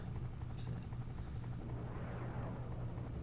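Apache attack helicopter in the video game Desert Strike, a steady low rotor drone and engine rumble running continuously throughout, with faint game effects on top.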